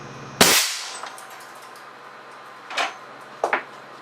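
An air cannon pressurised to 325 psi fires a round ball at a bathroom sink: one loud, sharp blast up front, then a quiet stretch and a couple of later clattering knocks from the debris.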